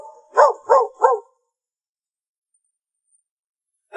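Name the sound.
dog barking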